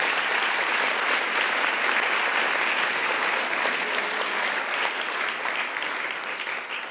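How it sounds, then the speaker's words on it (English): Steady applause from a conference keynote audience, a dense wash of clapping hands at moderate level that carries on evenly and begins to taper at the end, with no voices. "you should give yourselves a round of applause"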